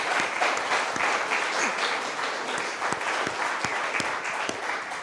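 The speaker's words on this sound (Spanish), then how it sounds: "denle un aplauso por favor a Dios" A church congregation claps steadily and loudly throughout, a dense continuous wash of applause with a few sharper individual claps standing out, with no talking over it.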